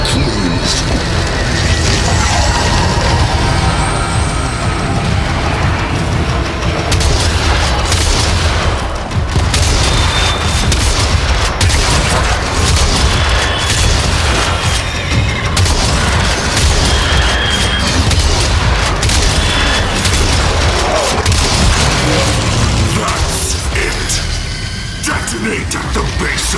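Loud video-game explosions and gunfire boom almost continuously in a chaotic battle, dense and heavy throughout, with in-game voices shouting over the blasts.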